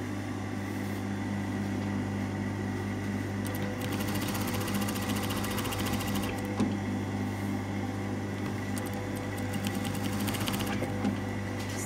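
A sewing machine hums steadily without a break while stitching a tunic's double yoke and collar, a close, even motor drone with light rattling ticks and no speech.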